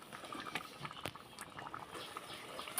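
Chickpea curry cooked with meat fat bubbles and sputters in a pot while being stirred, a steady close simmering patter with soft wet pops and a few sharper spoon clicks, no voices.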